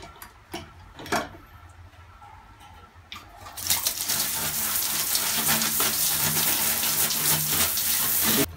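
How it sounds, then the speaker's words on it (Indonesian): A fishing reel is washed with a spray of water, starting with a few faint clicks and handling taps before a loud, steady hiss of spraying water kicks in about midway and keeps going, close by. "setelah ini disemprot dengan air seperti ini"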